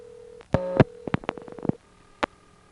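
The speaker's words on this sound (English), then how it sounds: "Now the phone's ringing, but" Telephone line on a 1977 step-by-step exchange in Monroe, New York, carrying tones and clicks: a steady tone, then a burst of loud pulsing bursts and clicks, a quieter tone, and one short final click.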